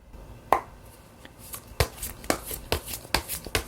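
Tarot cards being shuffled and drawn, a series of sharp papery slaps and riffles at close range, irregular at first and then quickening into a rapid run of crisp taps.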